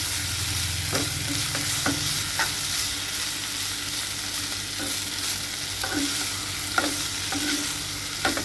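Spaghetti noodles being stir-fried in a pan at home, with steady sizzling and repeated scraping stirs of a utensil, close and continuous with no talking.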